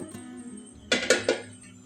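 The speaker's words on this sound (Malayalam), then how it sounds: "ഇനി നമുക്ക് മസാല ഉണ്ടാക്കാനുള്ള ചട്ടി വെച്ച് കൊടുക്കാം" A metal cooking pan for making masala is set down on a stove, giving three quick clanks close by in a quiet kitchen.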